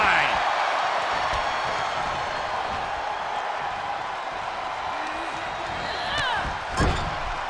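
A wrestler's clothesline lands in a WWE 2K22 women's match between Sasha Banks and Mandy Rose, a dull thud over steady arena crowd noise, with commentators talking throughout.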